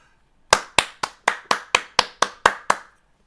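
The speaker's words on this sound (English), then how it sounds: "I'm sorry I just blew your ears out with the clapping." Ten sharp hand claps ring out very close and loud in an even, steady rhythm, each one crisp and separated by a brief pause, with no voices.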